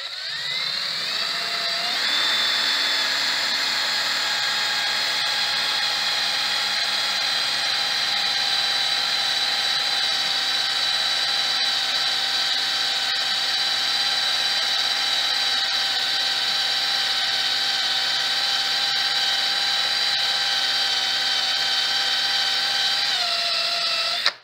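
A power drill spins a 3M strike-off wheel to strip pinstripes from a Chevrolet HHR body panel, giving a steady, loud, high whine that holds unbroken for about twenty seconds after a brief spin-up and cuts off at the end.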